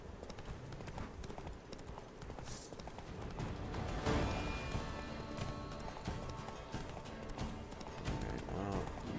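Roach, the horse in The Witcher 3, gallops with a quick, steady clip-clop of hooves under continuous game ambience, the hoofbeats faint and persistent throughout with no speech.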